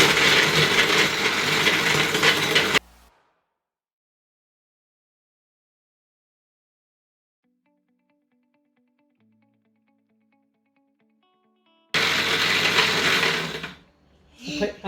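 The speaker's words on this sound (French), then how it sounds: "On va mixer le pain. Donc là, on a fixé le mixeur sur le robot et c'est parti." A kitchen food processor with a blender attachment grinds bread into crumbs, a loud whirring motor burst that stops, then a long near-silent stretch before the motor roars again.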